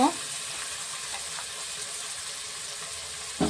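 Frying sizzle in a pan while cooking Chicken Patiala, a steady broadband hiss that holds for a few seconds with a brief clatter at the start and end.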